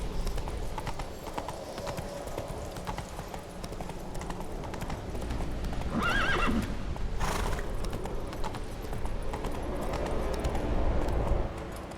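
Roach, a horse in the video game The Witcher, clops along with steady hoofbeats throughout and gives a short whinny in the middle, all close and clear over a low ambient bed.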